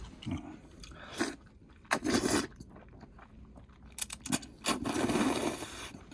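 Cold bean noodle soup (kongguksu) being eaten close up, with several short, sharp bursts of slurping and chewing separated by quiet pauses, and no talking.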